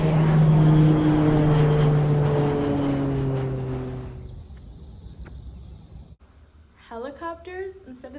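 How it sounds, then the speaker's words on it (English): A loud engine drone with a strong pitched hum sweeps past and fades away, followed by quiet and then a voice speaking. "Helicopters instead of the Easter Bunny?"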